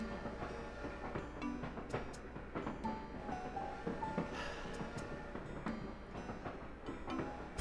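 Train-riding ambience in Animal Crossing, a quiet steady rumble of carriage wheels with faint rhythmic clicks and rattles, continuous and low in level.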